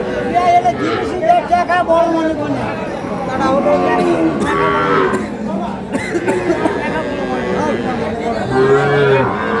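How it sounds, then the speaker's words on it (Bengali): Dairy cows and calves of Sahiwal, Sindhi and local breeds moo repeatedly at a busy rural cattle market in Ambari, with long lowing calls rising over steady crowd chatter and people talking nearby. "গাভী গরুগুলো রয়েছে।"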